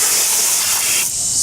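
A loud, steady hiss of a hose spraying water into a car wash bucket to work up suds, continuous and close for the whole stretch, thinning slightly near the end.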